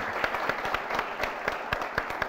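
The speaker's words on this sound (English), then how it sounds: "A round of applause for yourselves" A studio audience at a television talk show gives sparse, steady applause, with distinct individual claps standing out against a quieter background.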